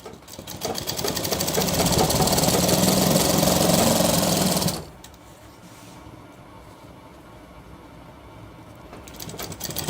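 A sewing machine runs loud and steady while stitching the shoulder seam of a shirt, then stops abruptly about halfway through, leaving quiet room noise behind.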